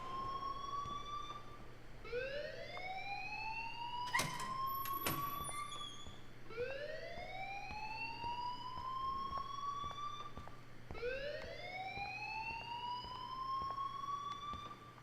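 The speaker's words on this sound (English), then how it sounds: "please turn off that alarm since that's your job" Alarm in the video game Life Is Strange, heard as repeated rising electronic siren-like wails in three sweeps, loud and steady with no talking, plus a brief sharp clatter near the start of the second sweep.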